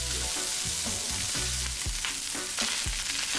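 Kimchi and Hawaiian smoke meat fried rice sizzles loudly in a hot pan, a steady frying hiss broken by a few soft scraping stir strokes, close and with no talking.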